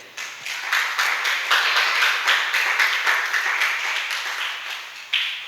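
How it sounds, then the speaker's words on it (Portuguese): A church congregation applauding during a sermon, rhythmic rounds of clapping that swell quickly, hold steady, then fade before a final brief burst. "Você pode aplaudir o nome dele?"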